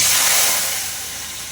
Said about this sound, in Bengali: এই যে চালটাকে ভাজা চলছে বিরিয়ানির